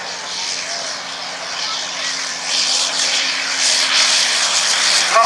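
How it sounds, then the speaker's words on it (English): A vintage Sopwith Pup, a single-seat First World War scout aircraft, flies past at a military pageant airshow. Its engine drones steadily and grows gradually louder, with a commentator's voice over it. "Joining the Bristol now is the Sopwith Pup."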